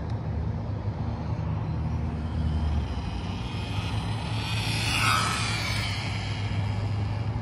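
A Losi NASCAR RC car running on a 4S battery gives a continuous high-pitched motor whine that rises and falls as it passes, heard alone over a steady rushing background.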